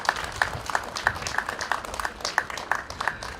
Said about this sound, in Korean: 그분들께 위로의 박수 더 크게 좀 보내주시기를 바랍니다